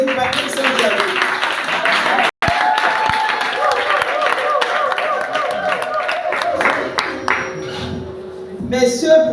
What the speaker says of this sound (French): On applaudit Patrick Saint-Germain.